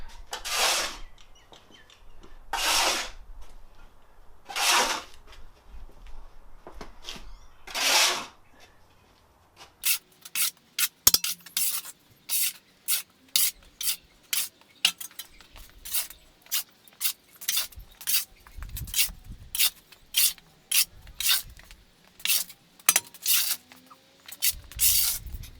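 Moulding sand in a foundry is shovelled into a heap. Several separate, well-spaced scrapes come first, then a quicker run of short, sharp shovel strikes and scrapes, fairly close and with no talk.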